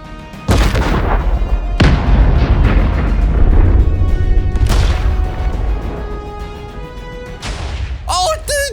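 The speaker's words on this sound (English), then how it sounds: "Firing the cannons into the ocean." TNT cannons fired into the ocean in Minecraft, several loud booming blasts, each with a long decaying rumble, the last one followed by a short electronic game sound.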